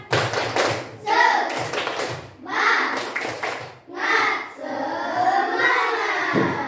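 A classroom of children doing the tepuk semangat clapping game, loud rhythmic group claps in patterned bursts mixed with chanting voices, pausing between phrases.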